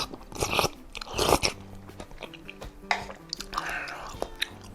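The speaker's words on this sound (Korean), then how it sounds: "육개장 국물을 한번 먹어보도록 하겠습니다" Someone eats spicy yukgaejang beef soup up close, with wet slurps, bites and chewing in short bursts and quiet pauses between them.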